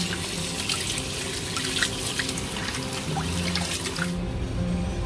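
Tap water runs steadily into a sink while used tea leaves are washed for garden fertiliser, a continuous close splashing flow that briefly eases near the end.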